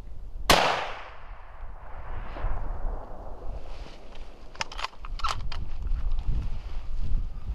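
A single sharp, loud rifle report rings out near the start through a 2013 Burris Eliminator scope setup and decays quickly, followed by outdoor background noise with a few faint clanks and rustles.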